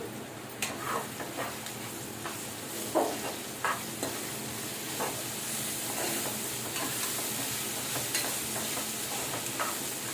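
Bitter gourd curry with ginger paste frying in a pan, a constant hissing sizzle with occasional spatula scrapes and taps, close and steady, no speech.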